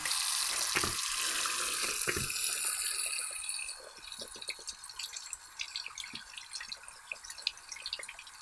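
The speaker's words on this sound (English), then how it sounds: "So I'm just gonna take some soap and water and just use my finger for some friction." An engraved silicone coaster washed under a running tap with soap, rubbed by a finger: a loud gush of water for the first few seconds, then quieter splashing and scattered drips.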